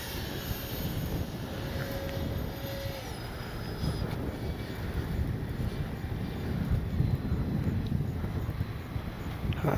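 A Freewing AL37 RC jet flies overhead and along a pass, its electric ducted-fan whine and rushing roar heard at a steady moderate distance, with wind buffeting the microphone.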